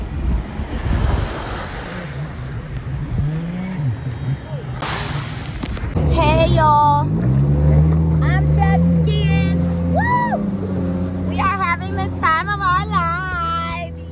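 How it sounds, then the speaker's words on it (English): Motorboat ride out to Eagle Beach in Aruba: a rumbling engine and rushing wind and water carry on throughout, with people talking and laughing loudly over the boat noise. "This boat is taking us to Jetski."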